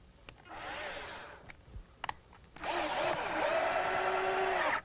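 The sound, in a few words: power drill driving in a screw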